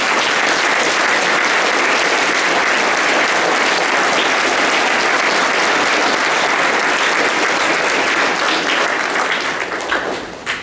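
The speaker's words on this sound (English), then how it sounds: "So let's give them a round of applause." Loud, sustained applause from a congregation at a Remembrance Day service fills the space evenly for about ten seconds, then thins and tapers near the end.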